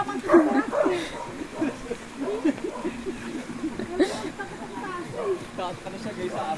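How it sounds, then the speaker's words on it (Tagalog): A dog gives repeated yips and short barks, mixed with whimpering, while people talk nearby, the barking fairly close and intermittent throughout. "May aso kasing narinig"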